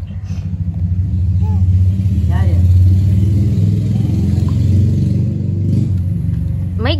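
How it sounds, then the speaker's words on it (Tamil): A nearby vehicle engine rumbles steadily with a low, mid-pitched drone that swells slightly and holds, while people talk and call out over it in the background. "மைக் தான் போடணும், வண்டி சவுண்ட்ல கேக்குது."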